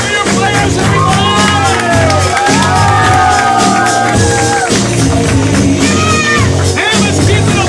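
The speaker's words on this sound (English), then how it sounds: "Give it up for your players, everybody!" A loud crowd at a live game-show event cheers, whoops and claps for the players, with shouting voices and high children's yells rising and falling over continuous applause.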